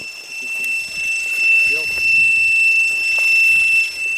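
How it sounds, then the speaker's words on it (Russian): An Eachine VR D2 video headset for a 250 quadcopter emits a sustained, high electronic low-battery warning tone that runs steadily through the whole stretch while people talk over it. "Это не аппаратура, это шлем пищит."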